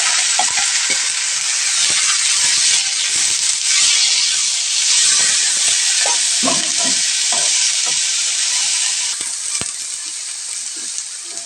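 Sliced bitter gourd and curry leaves stir-frying in hot oil for Kerala-style thoran, a loud continuous sizzle broken by scraping spatula strokes and light clinks against the pan.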